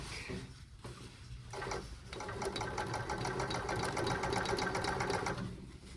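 A blind stitch sewing machine hems sheer fabric with a rapid, even mechanical ticking that speeds into a steady rattling run after a few short starts. It sounds close and fairly quiet, with no talking.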